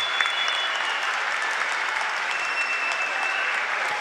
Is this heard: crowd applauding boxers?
yes